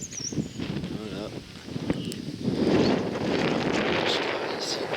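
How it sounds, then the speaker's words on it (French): Wind blowing outdoors near a workplace, gusting and buffeting the microphone in loud rushing bursts that swell and stay strong toward the end, with a voice speaking over the first part. "Il y a du vent, il y a du vent, il y a du vent."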